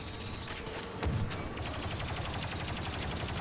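Rapid gunfire bursts from the Star Wars game Battlefront 2 on a Naboo map, steady and dense throughout with a sharper burst near the start, heard alone.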